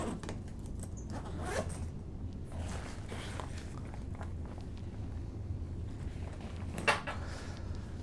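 The main compartment of a medical bag being unzipped, a clear, drawn-out ripping zipper sound up close over low background rumble, followed by a brief clack near the end.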